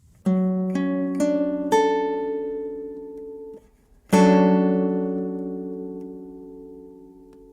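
A guitar sounds a 3-7-1-5 seventh chord voicing: four notes plucked one after another, each left ringing, then the whole chord struck together and left to fade out.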